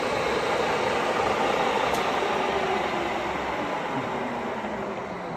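A Cleereman 25-inch sliding head drill press runs at its top speed of 1500 RPM, a steady close mechanical whir and hum with the power feed shaft turning, constant and even throughout.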